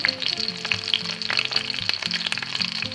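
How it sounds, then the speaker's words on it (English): Cheesy chicken ranch patties fry in a pan until golden brown, producing a continuous close crackle of spattering oil with fine popping and a faint low hum underneath, no voices. "we'll let them cook on that side until they get a nice golden brown on that side"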